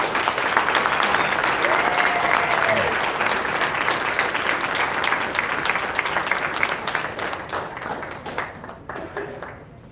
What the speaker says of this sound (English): if you could give them a round of applause, I would appreciate it